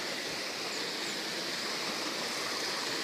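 A stream running along the trail to the Córrego Rico waterfall in Grão Mogol after heavy rain, heard from a small footbridge as a steady, full rushing wash of water with no talking.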